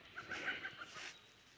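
Hens on a small woodland farm cluck and squawk in a short burst of several quick calls, fairly close and moderately loud, with no one talking.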